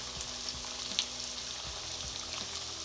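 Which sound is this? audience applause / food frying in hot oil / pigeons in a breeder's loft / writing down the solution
food frying in hot oil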